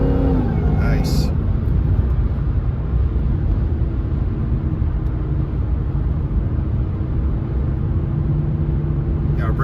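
A Jaguar XKR with an upgraded supercharger pulley accelerates from a start, giving a loud, steady, deep engine roar that continues for the full stretch without letting up.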